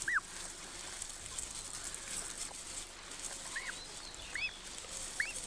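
Nene, the Hawaiian goose, calls at Slimbridge wildfowl reserve, several short distant honks spaced irregularly over a faint hissy outdoor background.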